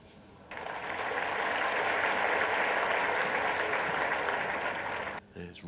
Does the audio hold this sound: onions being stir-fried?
no